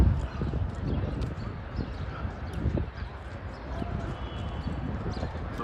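Horse-drawn carriage hooves clip-clop on pavement in Central Park, New York, a steady near rhythm under light background chatter and city ambience.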